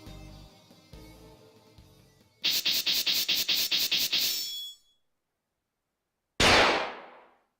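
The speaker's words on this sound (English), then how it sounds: "I like that gunshot." Gunfire in the video game Dies Irae: after a few low thuds, a rapid burst of about a dozen sharp, evenly spaced shots rattles loudly, then silence, and a single heavy blast with a decaying tail closes it.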